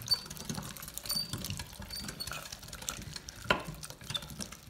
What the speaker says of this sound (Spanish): yo voy poniendo la maquinita y vamos moliendo